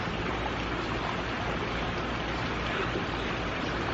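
Water splashes and churns steadily in a swimming pool, a continuous close wash of noise with no voices over it.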